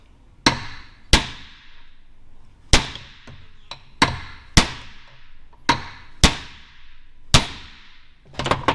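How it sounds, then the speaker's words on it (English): A hammer strikes a steel sleeve on a shaft during restoration work on a Barracuda 512 big block, giving about a dozen sharp, loud metallic whacks at irregular intervals, ending in a quick cluster of hits, with no talking. "You basically give it a whack to stretch the sleeve a little bit."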